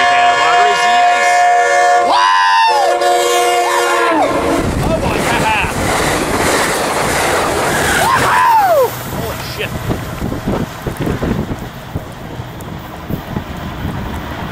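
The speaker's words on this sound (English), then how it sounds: "Wow, that train was going 90." An Amtrak passenger train rushes past Carlsbad Village Station at about 90 mph with a rising roar and wind buffeting, a horn sounding early before the noise fades into rumble.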